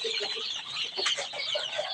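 Native desi chicks being brooded on a farm in Moulvibazar cheep and peep in a busy, overlapping chorus, with a few soft clucks among them, close and steady.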